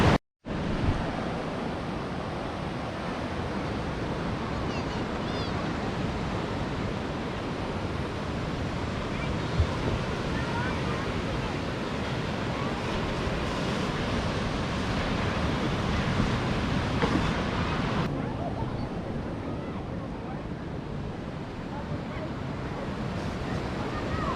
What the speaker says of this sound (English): Get a picture of the ocean coming in behind us.